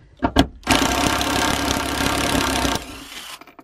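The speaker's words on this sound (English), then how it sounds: "Now I'm going to be really lazy and use my gun to remove the rest of them." An impact gun spins out car bolts during a shifter install, a couple of short taps and then a sustained loud rattling whir lasting about three seconds before cutting off.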